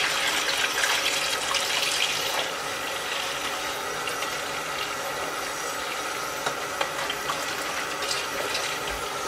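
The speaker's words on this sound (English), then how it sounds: "you want to fill up your sink" A sink slowly fills from the tap with warm soapy water for hand-washing knit photo props, a steady, even hiss of pouring water that carries on without pause.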